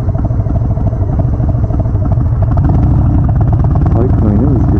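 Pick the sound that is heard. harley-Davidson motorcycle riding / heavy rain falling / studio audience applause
harley-Davidson motorcycle riding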